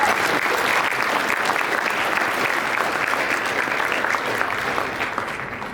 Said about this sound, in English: So we have a round of applause for that.